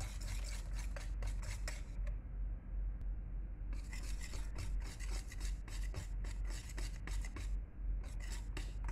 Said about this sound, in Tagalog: Tapos, haluin din ng haluin.